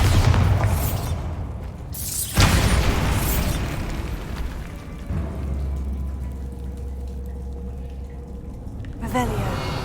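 Bombarda blasting spell in the video game Hogwarts Legacy, a sharp booming explosion with crumbling debris and a rumbling tail, then a second burst at the end, with a voice casting spells.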